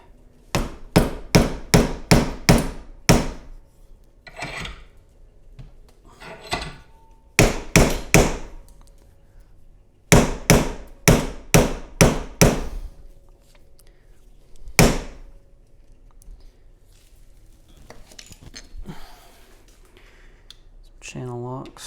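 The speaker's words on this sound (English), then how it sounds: "so a square shank flathead and a hammer." A hammer striking a square shank flathead screwdriver driven into a lock held in a vise: loud sharp metallic blows in quick bursts of five or six, separated by pauses, with a few isolated hits.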